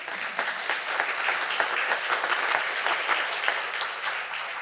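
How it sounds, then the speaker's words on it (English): An audience gives brisk, steady applause after a lecture on contemporary collecting, many hands clapping close and loud without speech. "I think an applause in order."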